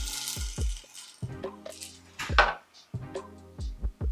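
Coffee beans rattle and clink into a grinder in short, close bursts with small pauses between pours, set against a few soft low tones.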